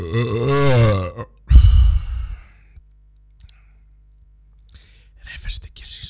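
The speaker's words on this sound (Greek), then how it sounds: "Ρεύεστε κι εσείς όταν πίνετε Coca-Cola?" A loud, drawn-out burp comes after drinking Coca-Cola Energy, followed by a sharp breathy exhale and quiet clicks, then a soft rustle.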